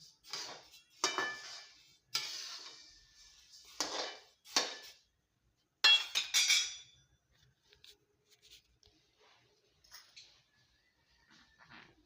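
Coriander seeds roast in a dry pan as they are stirred, making repeated bursts of rattling and scraping that fade into quieter, sparse clinks toward the end.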